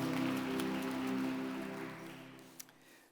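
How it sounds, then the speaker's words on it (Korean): A church congregation applauding together in blessing and encouragement, a dense steady clapping that fills the room and slowly tapers off toward the end. "우리 축복의 박수, 격려의 박수 하겠습니다."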